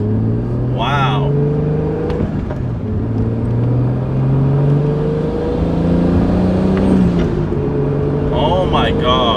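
Steady engine drone from a Toyota Supra during a slow right turn, with rising and falling pitch as it moves through the gears at low speed. Brief voices come in over the engine.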